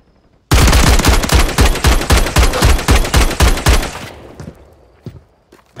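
Rapid gunfire in a Search and Destroy match of a first-person shooter game, a loud burst of about a dozen evenly spaced shots lasting several seconds, then fading into quieter scattered sounds.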